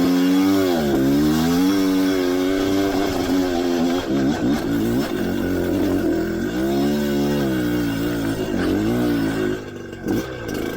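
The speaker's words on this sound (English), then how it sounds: "that is the amazing feeling of a two-stroke" A Kayo KT 250 two-stroke dirt bike is ridden nearby, its buzzy, raspy engine rising and falling through repeated revs and gear changes, loud and continuous for about ten seconds.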